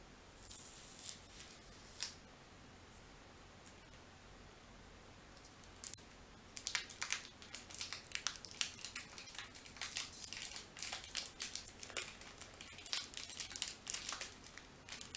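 Plastic soap packaging crinkles and tears as it is pulled open, sharp close crackles and clicks starting sparse then turning into a dense run of rustling in a quiet room.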